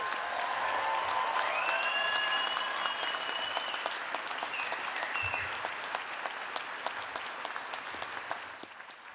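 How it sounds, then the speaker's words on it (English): Sustained applause for PhD graduates at a 2023 biomedical engineering commencement ceremony fills the hall, dense steady clapping with a few faint tones early on, slowly tapering near the end. "Let's give our PhD graduates one more round of applause"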